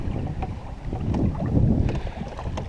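Wind buffeting the microphone on a secluded lake while canoeing, a steady low rumbling gust with faint water movement, close and continuous.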